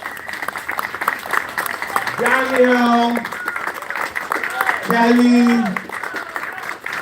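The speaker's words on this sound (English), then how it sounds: "a round of applause to everyone for showing up" A crowd of attendees at a Ward 14 community gathering claps in a round of applause, steady and moderately loud, with voices speaking and calling out over it in two short bursts.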